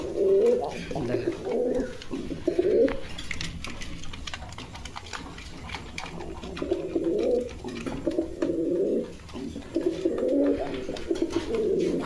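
Pigeons on a breeding farm coo in repeated throaty bursts, several birds close by, with short pauses between phrases over a faint background hum.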